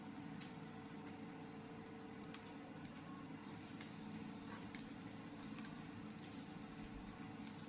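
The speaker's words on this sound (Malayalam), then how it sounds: "ചെറുതാക്കി മുറിച്ചിട്ടുള്ളതാണ് ഉള്ളി അപ്പോൾ ഇത് ഒന്നും കൂടെ വഴഞ്ഞ് വരട്ടെ ഒന്നും കൂടെ മൂപ്പിച്ചെടുക്കട്ടെ" Finely chopped onions sizzling in a pan, a soft, steady frying hiss that continues throughout with no talk.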